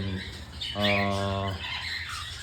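A pet cockatiel, a silver-colored young bird kept at home alongside its sibling, lets out one loud, harmonic squawk lasting under a second, close to the listener, with quieter chirps and soft room noise before and after.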